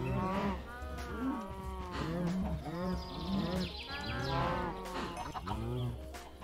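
Cows in the Minecraft MC Eternal modpack moo repeatedly, several overlapping low calls close together, fairly quiet, with a faint chirp of birds in the background.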